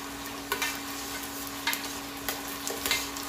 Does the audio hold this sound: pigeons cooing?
no